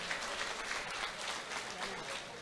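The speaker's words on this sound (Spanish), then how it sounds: "Un buen fuerte aplauso para Anthony y FUPAC." A live audience at a Latin swing radio show applauds steadily, with dense, continuous clapping that fills the moment at moderate loudness and no talk over it.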